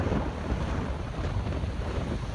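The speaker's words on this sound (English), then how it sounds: "And it's really windy." Strong wind on the Blackpool promenade by the seafront buffets the microphone in a constant, heavy roar, steady throughout with no voices.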